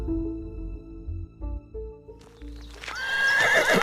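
A horse in a Hindi audio drama set in an old Chola-era tale gives a loud, close whinny that rises at the end, preceded by a steady rhythm of hooves clip-clopping, with no talk over it.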